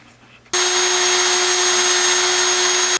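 A power drill runs steadily with a larger bit boring through a Remington 870 shotgun's metal magazine tube, one loud continuous high whine of about two and a half seconds that starts and stops abruptly.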